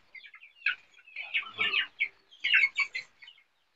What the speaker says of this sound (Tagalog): Yan ang mga una kong alagang manok.